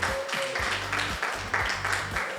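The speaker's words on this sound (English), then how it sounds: "I believe a round of applause is in order for Alexandra and her team" A room of people applauds Alexandra and her team at an after-hours business talk, steady clapping in pulsing waves, fairly close and continuous.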